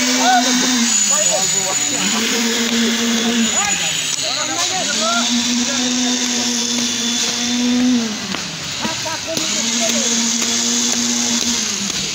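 A concrete mixer machine churns mortar at a building site: a loud, continuous motor drone whose pitch repeatedly sags and recovers in a rough cycle. Voices carry faintly over the machine.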